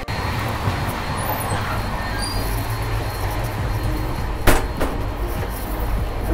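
The August Kranti Rajdhani train runs along the tracks, heard from inside a first AC coach as a loud, steady rolling rumble with a brief metallic clatter partway through, with no talk.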